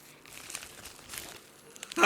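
A paper envelope from a P.O. box being opened, with soft crinkling and tearing rustles close by, ending in a sharper crisp rip.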